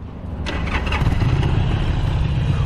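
A used 2012 Harley-Davidson 883 Superlow motorcycle starts up close by, the starter whirring briefly before the engine catches and settles into a loud, steady, rumbling idle.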